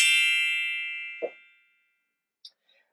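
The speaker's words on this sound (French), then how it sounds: "c'est juste le téléphone qui dit qu'il est en batterie faible" A phone sounds its low battery alert: a bright ringing chime that rings out and fades over about a second, followed by a soft thump and a faint short blip.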